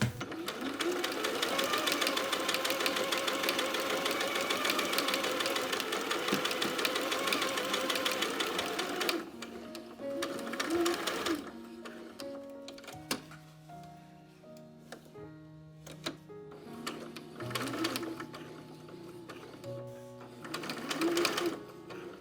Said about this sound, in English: I will raise the pressure foot and sew a diagonal out to the corner like so